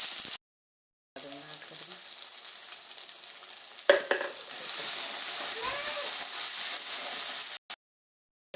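Masala spices frying and sizzling in a hot pan for an Odia home-style dish, a steady close hiss with brief stirring scrapes, cut by a couple of silent gaps.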